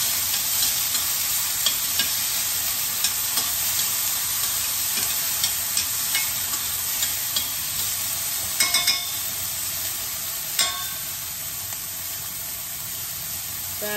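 Minced garlic sautés in a pan, a constant close sizzle with scattered stirring clicks and scrapes and a few louder pops, running steadily without any talking.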